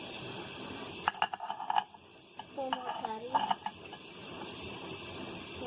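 Patties fry in a pan with a faint, steady sizzle, broken by a few clattering scrapes and clinks of a utensil against the pan near the listener.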